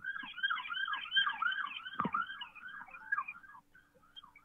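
Wailing, rising-and-falling emergency sirens pass at moderate distance, overlapping and warbling steadily for several seconds before fading, with a single low thump partway through.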